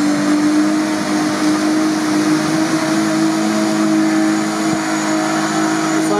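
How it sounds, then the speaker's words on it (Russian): An off-road vehicle with its differential locks engaged accelerates on a tank road, giving a loud, steady, strained engine drone that carries on without a break and with no talking. "Саня включил блокировки и нажал на газ"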